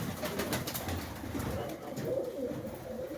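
A breeding pair of pigeons coos softly nearby, with low, repeated throaty calls over a faint background murmur.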